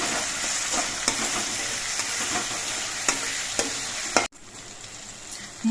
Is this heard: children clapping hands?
no